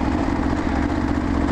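KLR650 motorcycle engine with a suspected fuel fault barely chugging along, a loud, steady, close low drone with a rough, uneven pulse, no voices.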